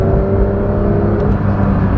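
A Porsche 992.1 911 GT3 climbs a mountain road, its engine a loud, steady, close drone that holds at sustained revs with slight surges and no pauses.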